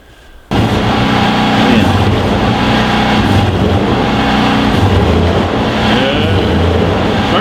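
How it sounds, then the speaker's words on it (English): A small portable generator runs nearby, starting abruptly after a brief quiet moment and then holding a loud, steady engine drone for the rest of the stretch. "Alright, got a little generator here."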